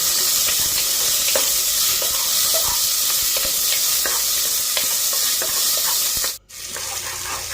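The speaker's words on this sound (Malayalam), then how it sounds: "ഇതിലേക്ക് കട്ട് ചെയ്ത് വെച്ചിരിക്കുന്ന പച്ചമുളക്, സവാള ഇത്രയും വിട്ട് ഒന്ന് വഴറ്റിയെടുക്കാം." Chopped green chillies and onion sautéing in a hot pan for a potato curry, a loud continuous sizzle with steady stirring scrapes, briefly cut off near the end.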